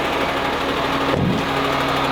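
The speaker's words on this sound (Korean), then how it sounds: "작업하실 때는 시동을 걸어 놓잖아요" Truck engine left idling during work, a steady low rumble with a faint vibrating knock, continuous and fairly close, with no talking.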